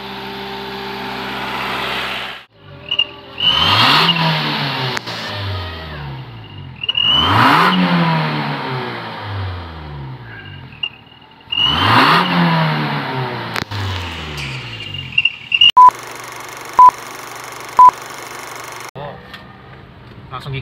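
A 2012 Toyota Avanza engine revs up in third gear during a test drive after a tune-up, climbing and dropping in several repeated surges, then idling, with someone talking over it.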